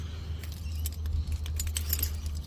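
Keys for a Nissan 300ZX convertible's car alarm jangle and clink in a few short metallic bursts close by, over a low steady hum, with no talk.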